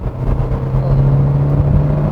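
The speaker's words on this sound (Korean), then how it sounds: "이렇게 엑셀을 밟았을 때" A KG Mobility Torres facelift SUV with a 170-horsepower engine, set to drive mode, accelerates from inside the cabin as a steady, loud engine drone with a low hum and road rumble.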